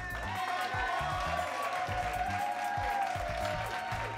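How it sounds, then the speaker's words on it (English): Studio audience applause greets contestants on an eco-friendly game show: a continuous wash of clapping and light cheering that plays beneath rhythmic background music. "How about a big round of applause for our contestants?"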